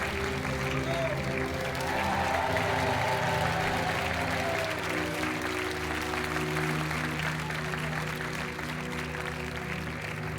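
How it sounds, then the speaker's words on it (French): Studio audience applause for departing game show contestants on Money Drop, a steady sustained clapping wash lasting throughout, with music or tonal studio sound layered underneath and some talk likely mixed in. "On va vous laisser sortir sous les applaudissements parce que vous avez très très bien joué."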